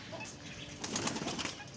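Soft pigeon cooing in a quiet setting, low and murmuring, with a slight rustle of movement.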